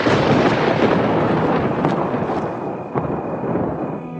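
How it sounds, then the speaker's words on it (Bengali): A loud thunder strike used as a story sound effect: a heavy crack that rolls into a broad rumble, slowly fading over a few seconds, with no voices. "জোরে একটা বাজ পড়ে"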